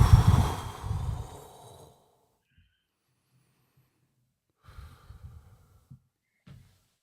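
A person takes a deep breath during a guided meditation: one long, loud inhale and exhale up close, then near silence, followed by a few softer breaths and small rustles.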